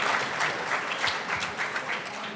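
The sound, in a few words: audience clapping and applause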